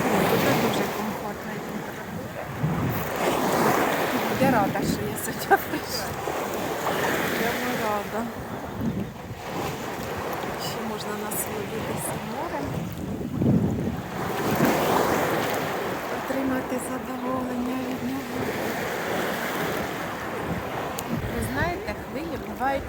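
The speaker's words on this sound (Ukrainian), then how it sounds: "А сьогодні така, такі м'які хвилі, повільні" Soft waves of the Black Sea wash onto a beach in Odesa in slow surges, with wind buffeting the microphone and a person talking over the surf.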